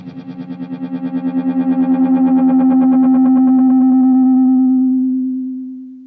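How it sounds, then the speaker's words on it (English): An Echofix EF-X2 tape echo pushed into self-oscillation builds from a rapid pulsing flutter of repeats into a loud, sustained droning tone that swells, holds steady and then slowly fades out. "you can actually push it into self-oscillation as well. Just get it on the edge. You can hear you getting an awful lot of repeats going on"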